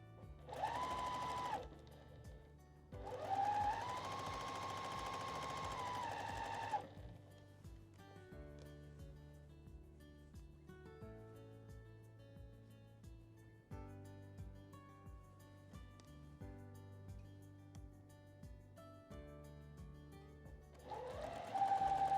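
A sewing machine chain pieces quilt blocks in a steady stitching run. The motor hums loudly in bursts at the start and the end, with quieter handling and rustling between them.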